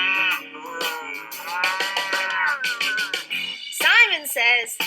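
Young children at a preschool game imitate a cow, a cluster of overlapping vocal moos from several small voices, close and lively, with a couple of louder rising calls near the end.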